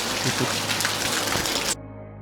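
Steady rain patters densely on a surface in the Carpathian mountains for most of the moment, then cuts off abruptly, leaving only a faint low hum.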